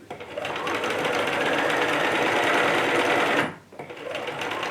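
Sewing machine stitching fabric for a lanyard, running in a steady continuous whir for about three seconds, then briefly stopping before starting up again.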